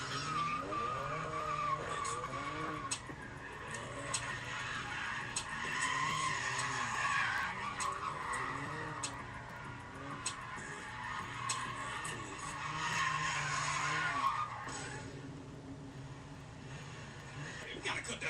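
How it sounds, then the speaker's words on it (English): A 2026 Dodge Charger's engine revs hard and its tires screech in long skidding squeals as it slides, with a voice talking over the noise. "We about to try to slide the 2026 Charger for the first time."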